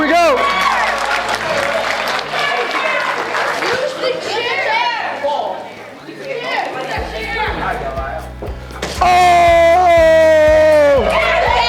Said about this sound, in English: Let's give her a big round of applause, everybody.